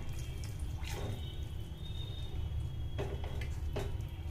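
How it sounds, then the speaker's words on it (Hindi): Water poured a little at a time into a pot of simmering rajma (kidney bean) gravy, giving faint, intermittent dripping and splashing over a low steady background. "यहाँ पे हम थोड़ा सा पानी डाले हैं, थोड़ा सा पानी और डालेंगे इसमें"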